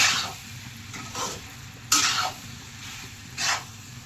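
Pasta stirred in a hot pan, a low sizzle under several separate bursts of scraping stir strokes, close by and without voices.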